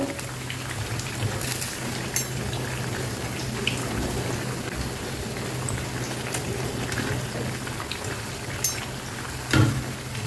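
Mysore bonda fritters frying in hot oil, a dense continuous sizzle and crackle like steady rain, with a faint low hum beneath and a couple of louder pops near the end.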